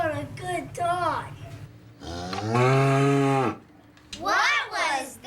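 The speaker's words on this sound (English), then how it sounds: "Oh, that was just Daisy, the dairy cow, mooing" A dairy cow lows once, a long drawn-out moo in the middle, with a cartoonish voice talking just before and after it.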